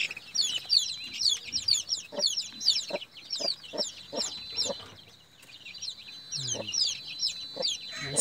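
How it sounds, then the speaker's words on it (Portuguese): Small backyard flock of hens and chicks, rapid high peeping from chicks layered over intermittent low clucks from the hens, close and busy throughout, with a faint voice briefly underneath. "Essa é a minha pequena criação de galinha."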